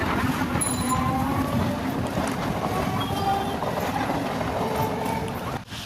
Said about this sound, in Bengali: এবার ট্রেন আসবে আমরা স্টেশনে ওপারে যাব একটু ঘুরতে।